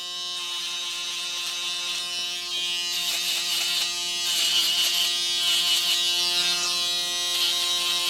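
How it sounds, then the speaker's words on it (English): A foil electric shaver buzzes steadily against skin while cleaning up a beard line-up during a burst fade haircut. The close, continuous hum swells slightly louder partway through as the foil presses in. "I'll go with the foil shaver and I'm just going to shave all that up"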